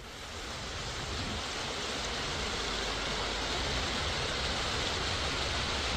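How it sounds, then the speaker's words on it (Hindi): Thousands of litres of water gushing to waste in scorching heat, a loud, steady broadband rush with no pauses, close and unbroken for the whole stretch. "हजारों लीटर पानी जो है वो व्यर्थ बह रहा है"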